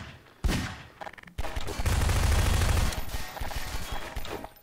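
Gunfire in the video game Garry's Mod, a few sharp opening shots, then a sustained loud volley of rapid fire that thins into scattered shots, with a voice briefly heard in the mix.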